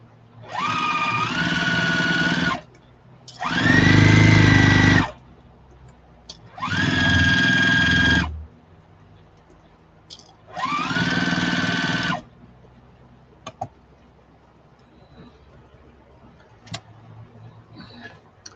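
A sewing machine runs in four separate bursts, each a couple of seconds long, stitching slowly back and forth through thick layers of a quilted yarn bag, with quiet handling sounds between bursts.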